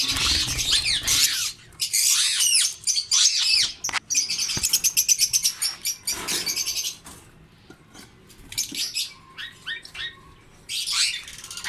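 A breeding pair of lovebirds, a parblue female and an opaline-split male, with their chicks, give close, loud bursts of shrill chirps, squawks and rapid twittering with short pauses between.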